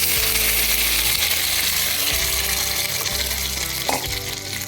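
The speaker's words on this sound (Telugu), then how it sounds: "ఆయిల్ వేడెక్కిందండి. ఇందులో మనం టమాటాలు వేసుకుందాం." Tomatoes hit hot oil in a kadai pan and fry with a loud, continuous sizzle and crackle, close by and with no voices over it.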